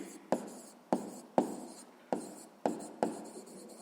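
Pen writing by hand on paper while a sixth-grade math exercise is worked out: six short, sharp scratching strokes, each fading quickly, evenly spaced over a few seconds, quiet and close with no talk.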